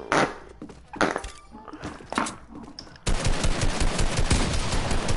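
Video-game gunshots played with keyboard and mouse, with a few sharp separate shots at first and then a dense rapid burst of automatic fire that runs to the end.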